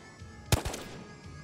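Gunfire in the video game Ghosts of Tabor: two quick, fairly loud shots close together over a low ambient background, with no talking.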